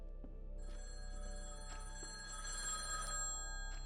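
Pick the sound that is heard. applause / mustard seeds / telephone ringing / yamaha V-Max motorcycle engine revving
telephone ringing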